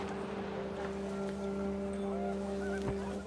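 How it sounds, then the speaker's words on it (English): Panicked geese honk faintly in the video game What Remains of Edith Finch, a few scattered calls rising over a steady low rumble of wind and ambient drone. "The wind picked up and panicked geese appeared and quickly went."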